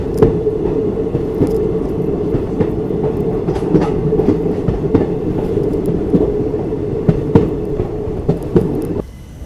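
Dehradun–Mussoorie Express train running on rails, a loud continuous low rumble with repeated clickety-clack wheel beats, heard close from inside the carriage before abruptly fading at the end.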